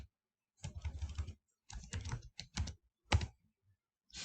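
A password is typed on a computer keyboard as quiet, close key clicks in short bursts separated by pauses, ending in a single firmer press.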